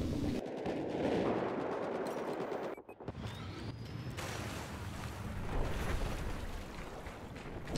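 Sniper rifle fire in Battlefield 4 with a 20x scope, heard as a couple of sharp gunshot cracks and a loud blast near the three-second mark over steady rumbling, watery background noise.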